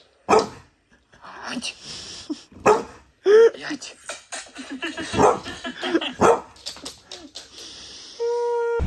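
A dog barks in several sharp, close bursts with yips and whimpers between them, then a steady electronic tone comes in at the end.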